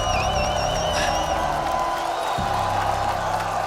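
Crowd at a Call of Duty Black Ops 7 esports tournament finals in Paris, a steady roar of cheering with whoops and applause that stays loud throughout, a brief whistle near the start.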